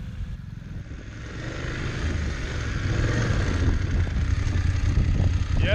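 A BMW GS motorcycle engine on a light, steady throttle climbs a slope off-road, a low continuous rumble that slowly grows louder under wind noise, with no talk.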